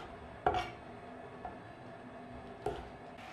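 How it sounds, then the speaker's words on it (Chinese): A knife slices soaked yuba (tofu skin) into diagonal pieces, three separate soft chops against a board spaced about a second apart, fairly quiet, with no talking. "再将腐竹斜着切成段"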